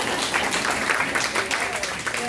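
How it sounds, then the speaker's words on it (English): A crowd at a Sunday Gullah Geechee gathering keeps up a thick, continuous round of clapping through the short stretch, with a faint voice rising over it near the end. "Keep clapping."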